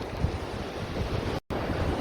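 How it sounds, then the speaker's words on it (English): Choppy ocean waves wash and churn in a steady roar, with heavy wind buffeting the microphone and a brief dropout near the end. "A little dive in those waves. It's pretty choppy."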